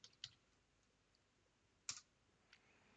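Sparse keystrokes on a computer keyboard, typed while entering a terminal command during an Arch Linux install: about five light, separate clicks spread across a few seconds, quiet and close, with no talk.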